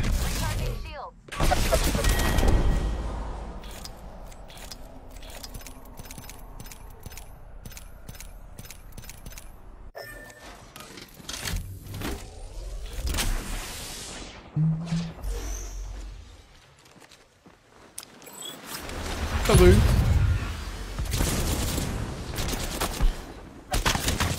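Dense video game gunfire in rapid bursts and sustained automatic fire, with shots, mechanical clatter and impacts filling the clip, while a player talks over the action.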